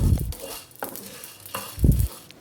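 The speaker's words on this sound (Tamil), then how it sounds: "இது எல்லாத்தையும் சேர்த்துட்டு அதே மாதிரி லோ ஃப்ளேமில் ரோஸ்ட் பண்ணிக்கலாம்." Dry chillies, cumin, fennel and peppercorns being stirred and roasted in a pan over a low flame: scraping stir strokes and light rattling of spices against the metal, with a couple of louder clunks, close up.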